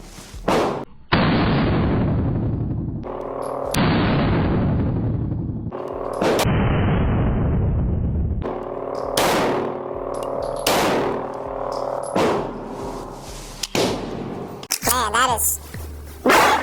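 A BUL Armory SAS2 ported pistol fires a string of sharp, loud shots at a steady pace, each crack followed by a brief ring-out, with a voice between some of the shots.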